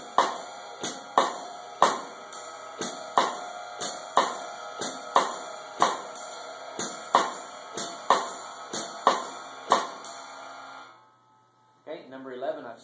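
A jazz drum set groove with cross-stick clicks and ride cymbal, a steady swung pattern of sharp close strokes over a wash of cymbal that stops near the end, after which a voice begins.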